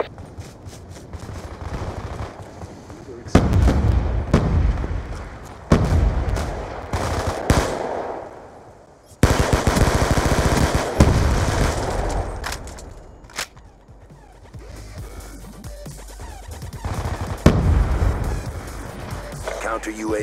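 Automatic weapon fire and heavy grenade-launcher blasts in Call of Duty: Black Ops 2 multiplayer, War Machine launcher, loud repeated bursts and booms in irregular rhythm, with game voice callouts between.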